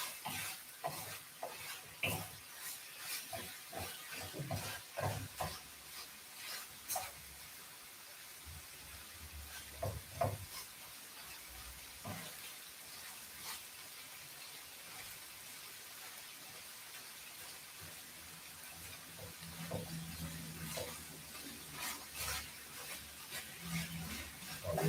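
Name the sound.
peppers frying and sizzling in a pan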